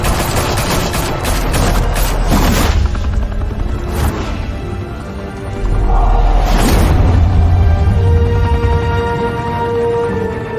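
Heavy gunfire erupts in Batman: The Telltale Series, with dense, overlapping bursts of shots and booms sustained loudly across the scene and no voices over it.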